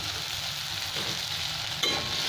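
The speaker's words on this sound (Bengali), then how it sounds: "টমেটো একটু ভেজে নেব 1-2 মিনিট" Tomato frying with onions in a pan, with a steady bright sizzle and a sharper burst of crackling near the end, likely from stirring.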